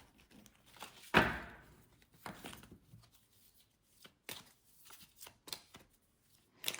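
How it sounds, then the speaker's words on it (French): Tarot-style cards are laid down and covered on a table, a sharp close slap of cards followed by a series of softer shuffles and light taps, quiet and close, with no talking. "je vais recouvrir toutes les cartes"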